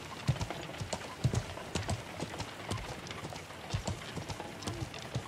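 Horse hooves clip-clop steadily in the medieval online game Feudal MMO, a near, rhythmic run of hoof strikes on the ground with no talk over it.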